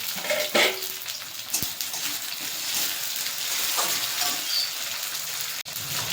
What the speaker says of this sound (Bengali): পেঁয়াজ ভাজা হয়ে গেছে, সঙ্গে টমেটোটাও ভাজা হয়ে গেছে।